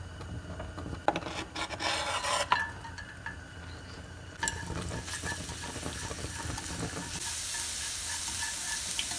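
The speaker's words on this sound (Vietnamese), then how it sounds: "Chờ cho dầu nóng và mình sẽ cho tỏi vào." Chopped garlic hits hot cooking oil in a pan for a stir-fry, giving a steady close sizzle and hiss with scraping and rubbing from stirring, swelling louder toward the end.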